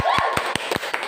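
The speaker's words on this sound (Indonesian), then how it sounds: "Beri tepuk tangan." A classroom of students claps in applause, about six sharp, evenly spaced claps within a second, close and fairly loud, with a voice faintly audible underneath.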